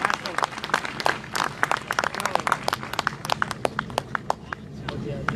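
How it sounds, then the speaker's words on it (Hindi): Audience applause at a Hindi poetry recital, with a live crowd clapping in a steady, dense patter that holds at moderate loudness for several seconds, without speech. "घनघोर तालियां बजाकर भाई तक पहुंचा दें।"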